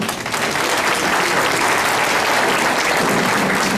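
Loud, sustained applause from an audience at an MHP district council meeting in Gemlik, a dense wall of clapping that fills the whole stretch without pause.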